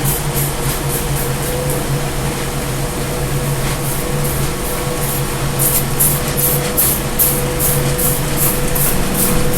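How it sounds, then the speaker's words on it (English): Repeated bursts of a spray bottle misting onto a gown's fabric, a steady run of short hissing puffs over a continuous low background hum, with no talking. "We're just going to spray a little bit more up top to try to get as much of it as we can."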